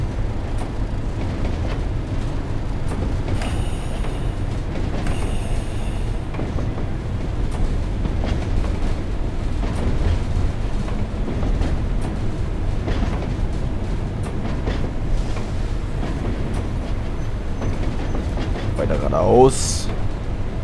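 A train on the Tees Valley Line in Train Sim World 2 builds power and accelerates, a steady low rumble with rail noise throughout and a brief rising tone near the end, with someone talking over it.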